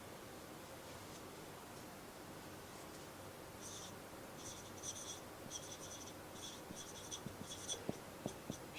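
Pen or chalk writing on paper or a board makes faint, rapid scratchy strokes in short repeated bursts over a quiet hiss, very soft and close, with no voices.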